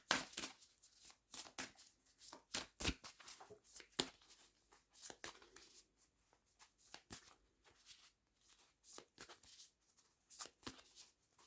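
Large tarot cards being shuffled, a quiet, close series of irregular papery riffles and slaps repeating in bursts with short pauses between them.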